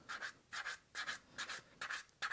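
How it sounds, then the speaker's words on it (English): Rhythmic back-and-forth scratchy rubbing, about six quick strokes of a sanding pad on a leather edge, close and soft, with brief pauses between. "Just using a sanding pad."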